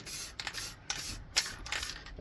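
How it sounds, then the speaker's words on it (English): Short bursts of aerosol varnish spray hiss from a spray can onto a plywood scroll-saw cutout, several quick puffs in a row, close by and fairly quiet, with brief pauses between them. "And it's just a simple case of spraying like so"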